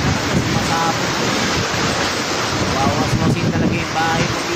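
Sea waves surge and churn steadily at a flooded Manila Bay beach during a typhoon, with strong wind buffeting the microphone into a loud, continuous roar and no clear pauses.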